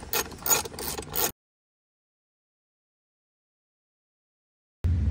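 Star-head screws come out of the airbox on a Mercury Grand Marquis during a cold air intake install: a quick run of close ratchet clicks, then silence, and another short burst of clicking at the very end.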